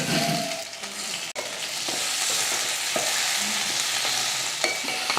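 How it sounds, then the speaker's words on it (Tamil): Onions and tomatoes sauté in a pan for a South Indian chutney to go with idli, a steady broadband sizzle with a few sharp spoon-scrape clicks as they are stirred, close and continuous with no talking. "வெங்காயம் பாருங்கள் இந்த அளவுக்கு நல்லா வதங்கினதுக்கப்புறமா இதில் ஒரு ரெண்டு தக்காளி சேர்த்துக்கலாம்"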